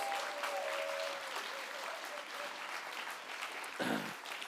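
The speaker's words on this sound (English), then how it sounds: "For everyone in this room, a round of applause, please, for yourselves." An audience at a writers' awards ceremony applauds itself, producing a full, even round of clapping from a roomful of people that holds steady and fades only slightly.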